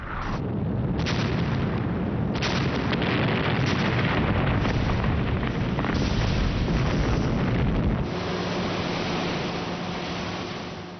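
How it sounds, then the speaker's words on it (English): Carrier-based aircraft bombing Pacific atolls in 1943 during the Second World War, with loud, continuous, dense rumbling blasts and booms that run together throughout, then settle into a steadier roar near the end. "For a week, the atolls were bombed by carrier-based aircraft."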